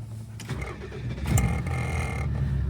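A 36-year-old JDM Nissan BE-1 small car cranked over and caught, a brief starter churn giving way to a low, steady idle that holds close and even to the end.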